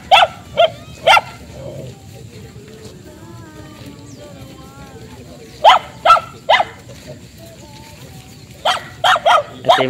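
A dog herding cattle barks in sharp clusters of two or three, pausing between bursts, over a low outdoor background with faint animal calls.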